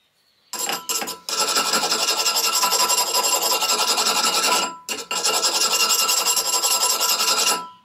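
A test file skates along the hardened steel edge of a forged blacksmith knife, tested at 65 HRC, producing a loud, continuous close-up rasp in long strokes with two brief breaks.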